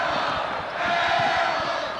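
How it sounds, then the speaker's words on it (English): At a 2004 high school girls' basketball quarterfinal, a gym crowd chants in a steady rhythmic roar, loud and echoing, with faint thuds beneath it. "they keep yelling, Drew, Drew"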